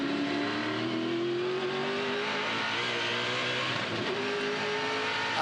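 Onboard a touring car accelerating down the straight at Adelaide, the engine note climbs steadily, drops briefly at a gear change, then rises again, loud and close amid wind and road noise.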